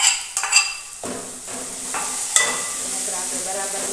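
Onion frying in a pan with ginger garlic paste just added, a steady sizzle under sharp spoon scrapes and clinks against the pan near the start, then continuous crackling frying.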